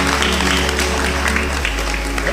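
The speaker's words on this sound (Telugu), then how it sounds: "గట్టిగా చప్పట్లు కొట్టండి అమ్మా." Applause from a congregation at a healing service, a sustained wash of clapping with a steady low hum underneath and voices mixed in.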